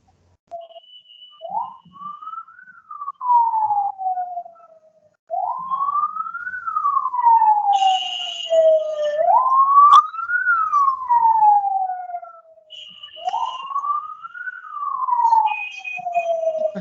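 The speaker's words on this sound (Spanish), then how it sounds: "ha pasado una ambulancia" An ambulance siren wails past, its rising and falling pitch sweeping up and down four times in a steady cycle, loud and clear with no talk over it.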